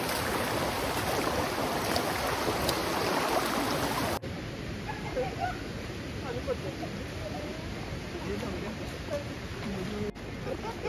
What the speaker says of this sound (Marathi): पायाच्या खाली पाणी आहे वरून वॉटरफॉलचं पाणी येत आहे